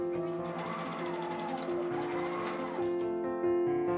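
A sewing machine runs steadily while stitching together the fabric pieces of a white Regency dress, a close, even mechanical whir with a brief change in pace near the end.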